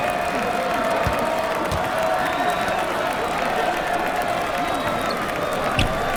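A home crowd at a basketball game cheers and applauds after a win, a steady, dense roar from a big arena held for the whole stretch, with a commentator talking under it.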